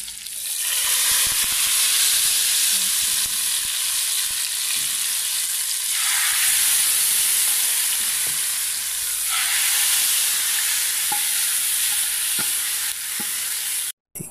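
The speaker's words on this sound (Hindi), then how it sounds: "तड़के का जो साउंड था आपको कितना पसंद आया" A tadka of red chillies sizzles and crackles in hot oil for Qadhi Pakora, loud, dense and continuous with swelling surges, then cuts off abruptly near the end.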